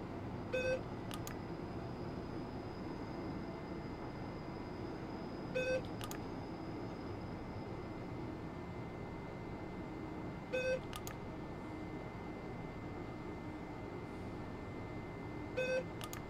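Warning beeps in the cab of an RhB ABe 4/4 III train on the Bernina Pass: short electronic beep bursts repeating roughly every five seconds, four in all, over a low steady cab hum.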